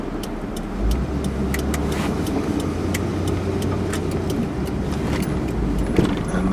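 A car rolls slowly along a town street behind a Dodge pickup, a steady low engine hum and tire rumble filling the cabin with faint clicks and rattles over it, no talk.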